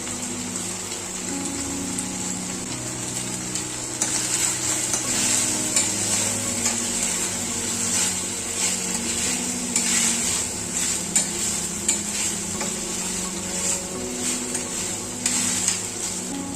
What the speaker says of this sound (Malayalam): നമുക്കിനി ഇതിലേക്ക് ഒരു അല്പം കറിവേപ്പില ഇട്ട് കൊടുത്ത് ഇളക്കി കൊടുക്കാം.